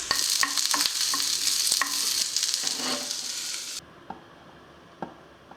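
Pepper, ginger, garlic, onion and chillies frying in oil in a pan, a loud bright sizzle broken by stirring clinks, which suddenly cuts back to quiet with only a few scattered taps.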